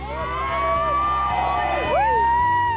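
A crowd at a bodybuilding show cheers a competitor on stage with continuous loud whoops, shouts and high-pitched yells, a dense roar of many voices that swells toward the end.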